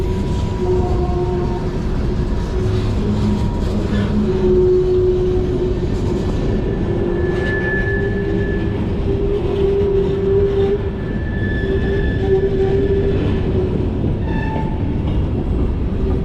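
A freight train rumbles past steadily and loudly close by at a rail park in Bellevue, Ohio, with continuous wheel noise and faint squealing tones throughout.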